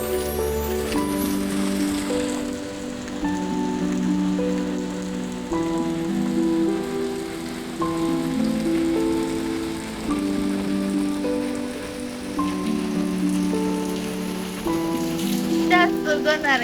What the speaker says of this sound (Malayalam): നല്ല മഴയാണ്, നല്ല കാറ്റും മഴയുണ്ട്.